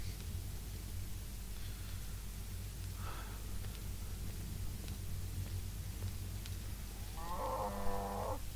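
In the video game Rising World, a cow lets out a single moo near the end, preceded by a quiet, steady low ambient hum.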